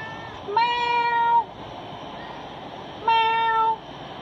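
Two drawn-out meows from a cat at an animal shelter, each close and steady in pitch, separated by a couple of seconds of quiet room hum.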